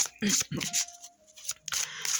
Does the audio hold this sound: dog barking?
no